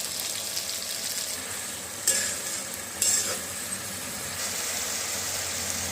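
Onions and ginger garlic paste frying in a pan for liver curry, a steady close sizzle with two brief clanks of stirring utensils against the pan.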